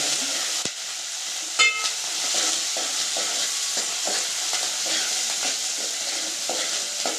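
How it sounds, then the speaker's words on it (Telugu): Chopped ridge gourd frying in oil in a village-style kitchen, a continuous bright sizzle with scattered pops and one or two clinks of a utensil. "మనం ఒక బీరకాయలు ఒక్కటే నూనెలో వేయించుకోవాలి"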